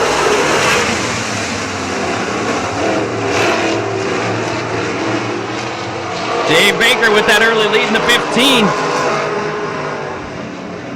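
Race cars roar away at a green-flag start in a heat race at Oakshade, engines loud and continuous with passing bursts and a tire squeal toward the end, all under steady commentary from a track announcer.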